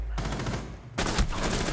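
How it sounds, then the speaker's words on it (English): Rapid bursts of video game gunfire crackle in two dense volleys, the second louder and sharper, with no talk over them. "I wondered when you were going to shoot, Murky."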